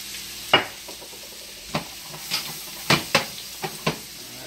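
Olive oil hitting a hot pan gives a soft sizzle, with several sharp clicks and scrapes of cookware spaced irregularly across a quiet background.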